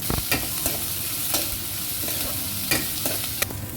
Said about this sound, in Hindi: अब इसे 1-2 मिनट के लिए अच्छे से भून लेते हैं।